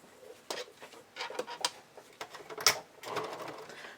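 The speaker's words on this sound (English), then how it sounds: "just insert the elastic tail into each of the O-rings, fold it under, and then zigzag stitch in place" Sewing machine zigzag stitching elastic onto a lace shrug, heard as a short, faint, uneven run of rapid mechanical patter and clicks with small handling noises between bursts.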